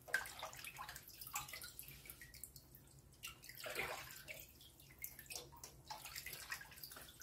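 Sorrel leaves are rinsed by hand under cold running tap water, with continuous soft splashing, trickling and dripping close by and no talking.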